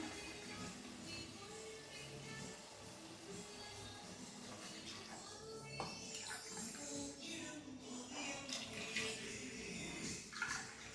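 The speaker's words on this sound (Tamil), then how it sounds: "அஞ்சு கப்பு தண்ணி விட்டுக்கலாம்" Water pours steadily into a cooking pot, five cups measured for millet rice for sambar rice, a soft continuous splashing rush that stays fairly quiet and unbroken, with no talk.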